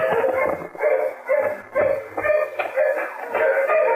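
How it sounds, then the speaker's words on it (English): Several dogs bark repeatedly in an old radio-drama sound effect. The barks are steady and overlapping, and the sound is thin and band-limited, like an old broadcast recording. "Dogs are getting closer, Rocky."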